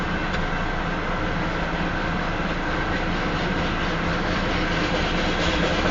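A Union Pacific southbound freight train of tank cars rolls past north of Elkhart, Iowa, a loud continuous wide rumble and roar of wheels on rail that holds steady throughout.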